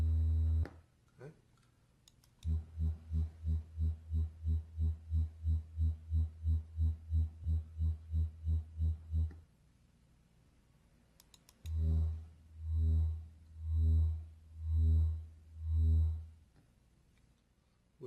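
Three separate low 80 Hz test tones standing in for wind turbine noise: a short steady hum, then a long run of rapid even pulses, then a slower series of five swelling, rhythmic throbs, with brief quiet gaps between them.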